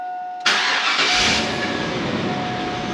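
Car engine cranking and catching after its spark plug wires were replaced, starting abruptly with a loud roar that settles into a steady close idle.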